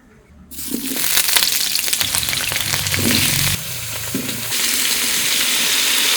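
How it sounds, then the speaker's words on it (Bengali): Potatoes drop into hot mustard oil for a rustic country chicken curry, setting off a sudden loud sizzle with crackling and stirring scrapes, then a steady close frying hiss with no talk. "দেশি মুরগিটা রান্না করার জন্য প্রথমে আমি আলুটা ভেজে নেব।"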